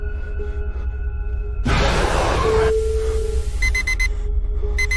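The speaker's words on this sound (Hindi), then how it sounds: "अलार्म की आवाज सुन संजीव की नींद खुली।" An alarm clock rings in bursts of sharp repeated high beeps near the end, after a louder stretch of noisy whooshing and a humming drone in a quiet room.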